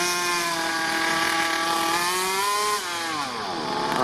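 A Rovan Q-Baja 29cc two-stroke gas engine on a 1/5-scale model buggy holds a loud, steady, buzzing drone at half throttle, then its pitch dips and wavers near the end.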